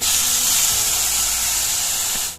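Tomatoes hit hot oil with fried onions for a Maharashtrian masoor dal, giving a loud, steady, close hiss of sizzling that cuts off sharply at the end.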